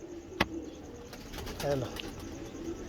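Pigeons coo softly at a breeder's loft, low rounded calls near the middle, with a sharp click and a brief wing flutter, under a quiet greeting from a man.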